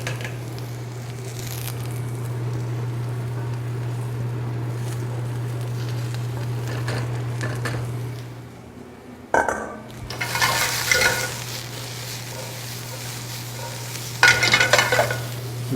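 Carrots and onions tossed into a pot start a soft sizzle over a steady low hum, followed by clattering stirring scrapes and bursts of frying hiss.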